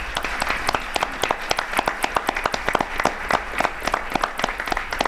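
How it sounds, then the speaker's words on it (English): Enthusiastic applause from an audience at a 2009 Louisiana Presidential Awards ceremony for mathematics teaching, sharp hand claps rising out of a steady patter of clapping for several seconds with no one talking. "Applause."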